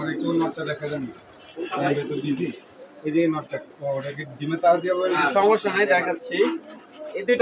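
Pigeons kept in a home loft in Bangladesh coo softly in the background while people talk over them throughout, the birds' calls partly masked by the conversation.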